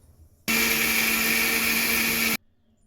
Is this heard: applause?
no